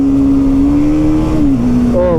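A Royal Enfield Bullet motorcycle engine holds a loud, steady drone as it speeds along a road over a flyover, the pitch sagging slightly before jumping higher near the end.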